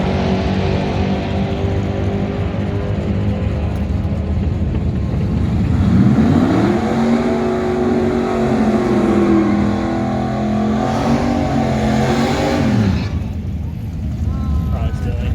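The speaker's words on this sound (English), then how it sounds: "when you're doing that burnout, if you ever drag raced before" A drag racing car doing a burnout, its engine roaring loud and close, rising in pitch and holding a high rev before dropping off near the end, with voices underneath.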